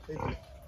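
A pig on a small low-budget farm in Nagaon, Assam, gives a short, low grunt up close, a single brief burst with faint background noise.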